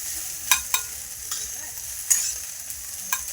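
Egg frying in a pan while Maggi noodles are being cooked, with a soft steady sizzle broken by several sharp clinks and scrapes of a spatula against the pan.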